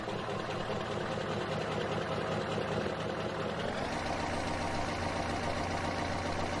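A Big Bud tractor engine in Farming Simulator 17 cranks and catches partway through, then settles into a steady, droning idle. The sound is continuous and moderately loud, with no talking over it.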